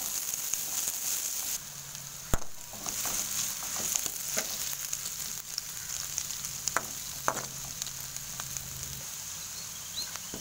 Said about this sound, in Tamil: இப்போ வந்து வெங்காயம் இதை நல்லா வறுத்துக்கலாம்.